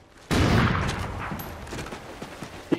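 Gunshots in the game Dare to Rescue: a sudden loud burst of gunfire that decays into scattered crackling shots and a final sharp report, with no talk.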